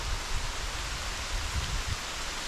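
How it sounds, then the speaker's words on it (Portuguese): Rain falls steadily on a riverside campsite on the Paraíba do Sul river, an even hiss of drops on surfaces with faint low rumbles underneath and no talking. "aí tá chovendo, hein?"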